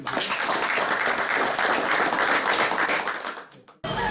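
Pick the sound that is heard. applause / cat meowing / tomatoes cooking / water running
applause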